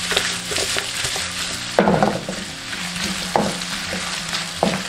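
Star anise, bay leaves, cinnamon, garlic cloves, ginger slices and scallion being stir-fried in oil, a close sizzle broken by several sharp scraping stirs of the spatula, with no talking.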